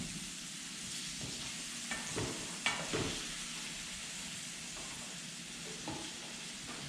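Hakurei turnips browning in a pan on high heat make a steady close sizzle, broken by a few scraping stirs and light clatters against the pan.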